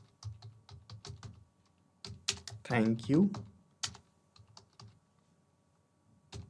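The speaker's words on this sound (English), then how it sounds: "Here I am typing the message for the person" Fingers type a message on a computer keyboard in quiet, close, irregular clicks and taps, with a short spoken phrase breaking in near the middle before the keystrokes resume.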